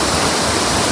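Monsoon water pours over the spillway of Vanana dam in a loud, unbroken roar, heard briefly and up close with no voices.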